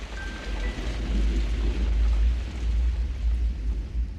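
Torrential rain with thunder, a loud, steady wash of downpour over a deep rumbling low roll that swells and lingers without a break.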